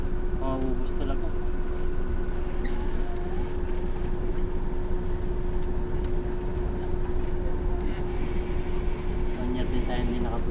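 Inside a moving passenger train, a loud, steady rumble and rattle continue throughout, with a constant hum and voices talking over the noise.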